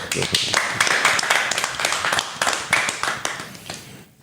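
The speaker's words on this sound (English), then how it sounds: "Clap it up for us." Hands clapping in rapid, uneven bursts with an excited voice on a podcast set, loud and close, tapering off near the end.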